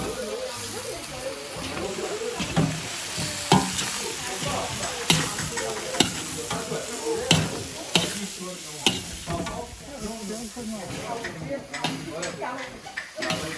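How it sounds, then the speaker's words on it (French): Onions frying and being stirred in a pan while cooking rougail and pork with bamboo, with steady sizzling, a run of utensil scrapes and clicks against the pan, and people talking over it. "on va rajouter des oignons dedans"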